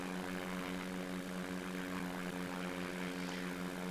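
A light propeller plane's engine drones steadily and evenly as the aircraft climbs toward 3,000 feet, heard from inside the cabin with no talk over it.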